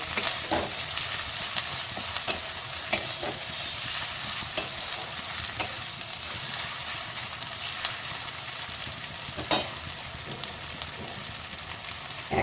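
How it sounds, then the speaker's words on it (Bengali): Ginger and garlic paste sautéing in a pan with steady sizzling frying noise and a few sharp scrapes and clinks of a stirring spoon scattered throughout, with no talk. "আমরা ভালো করে আদা রসুনটা এর সাথে কষিয়ে নেব"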